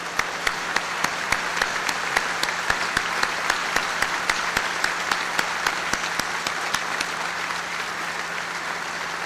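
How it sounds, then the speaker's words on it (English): Sustained applause at a 2002 high school commencement as the class of 1952 stands, a dense, even crowd clapping with a few sharper individual claps standing out steadily throughout, fairly loud and without speech. "Would the entire class from 1952 please stand for a round of applause?"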